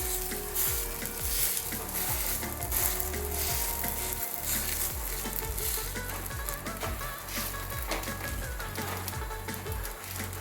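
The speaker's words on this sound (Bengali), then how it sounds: "মন্ডটা আমি চেপে চেপে এভাবে প্যানের উপরে দিয়ে দেবো" A rice dough patty pressed onto an oiled pan fries with a strong continuous sizzle, punctuated by rhythmic scraping and pressing sounds from the pan, close and steady, with no talking.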